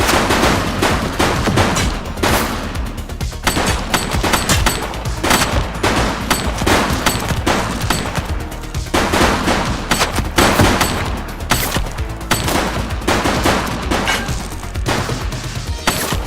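Sustained gunfire in the police game The Precinct: loud, close automatic bursts repeat in quick clusters with brief gaps, keeping a dense, rattling barrage throughout.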